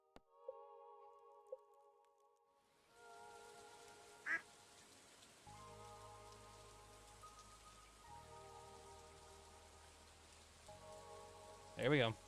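A duck in Stardew Valley Expanded gives two short quacks, one midway and one at the end, heard over a continuous bed of rain on the farm.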